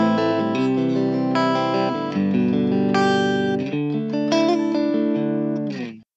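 Clean electric guitar, a Sire S7 with Lace Sensor Gold HSS pickups and a 10-way switch, playing chords and single notes, bright and sustained, with a smooth compressed tone and a little reverb.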